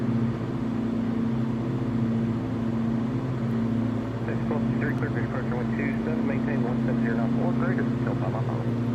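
Twin piston engines of a Cessna 414 AW Chancellor in a flight simulator hum as a loud, steady drone, running left and right together, while someone talks over them.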